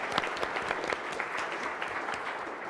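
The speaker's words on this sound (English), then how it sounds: "So I'd like to do a round of applause to all of our presenters." An audience at an entrepreneurs' pitch contest gives presenters a round of applause: a moderately distant, continuous patter of many hands clapping, no voices over it.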